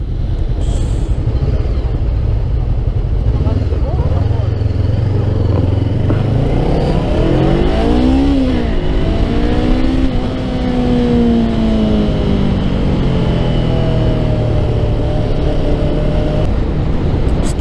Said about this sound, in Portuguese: Motor bem linear, bem suave, é uma moto que não tem grande vibração